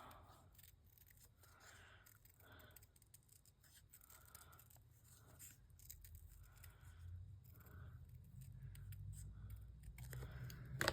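Scissors fussy-cut around stamped images on coffee-dyed paper, giving a faint, close series of small snips and paper scrapes in an irregular rhythm, with no talking.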